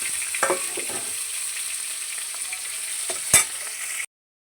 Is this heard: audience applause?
no